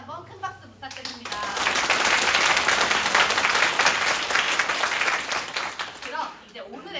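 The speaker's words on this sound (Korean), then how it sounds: "다해준 우리 극회 부원들에게 다시 한번 큰 박수 부탁드립니다." Sustained audience applause for a student theatre club after a play performance, dense clapping swelling after a short spoken lead-in and holding steady for several seconds before fading, with talk resuming at the end.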